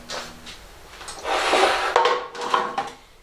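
Cubes of butternut squash are dropped and pushed onto a metal sheet pan, giving a series of clattering scrapes and light knocks in a quiet kitchen.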